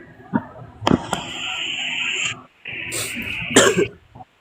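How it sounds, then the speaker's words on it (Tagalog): Two short coughs, one early and one near the end, sit among steady tonal background noise, close and fairly clear. "Ay, may konting ubo."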